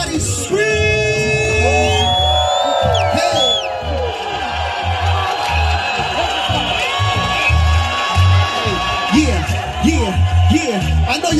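An audience at a poetry performance and birthday celebration screams, whoops and cheers in a loud, sustained crowd roar with overlapping yells, and music plays underneath.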